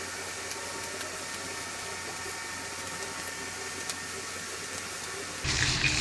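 Clear coat sprayed from a can over plasti dip on hydro-dipped lettering makes a steady, soft hiss throughout, and a louder burst of spray comes near the end.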